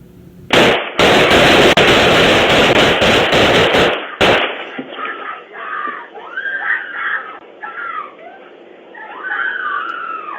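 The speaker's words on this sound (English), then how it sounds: "all three deputies on scene fired their weapons at the male suspect immediately" Three sheriff's deputies fire their weapons at a male suspect in a rapid, loud, close volley of gunshots lasting about four seconds, followed by agitated shouting voices.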